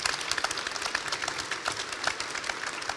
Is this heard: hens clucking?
no